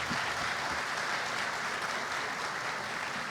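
Audience applause at a lecture event honoring Cardinal Dom Odilo, steady dense clapping throughout, moderately distant and even in level with no voices on top.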